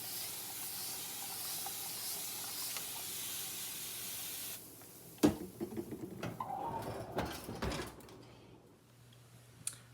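Water spritzed into a hot oven before white sandwich bread goes in to bake, a steady close hiss of spraying for several seconds, then a sharp click followed by clattering and rustling of handling.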